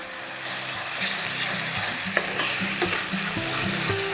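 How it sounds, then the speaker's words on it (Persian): Pomegranate molasses sauce with brown sugar and water bubbles and sizzles steadily in a pan, a close, continuous frying hiss with small pops and stirring clinks, no voices. "حالا بذارید بجوشه تا به اون قوامی که میخواید برسه."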